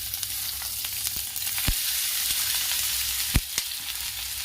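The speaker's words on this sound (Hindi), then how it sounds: "तेल गर्म हो चुका है। सबसे पहले इसमें मैं प्याज डालूंगी।" Onions are frying in hot oil, a continuous close crackling sizzle with a few sharp pops and clicks, heard alone without talk.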